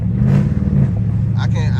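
Loud, deep exhaust rumble from a Dodge 392 Scat Pack running a full exhaust with no mufflers, droning steadily close by with a brief rev, while people talk over it.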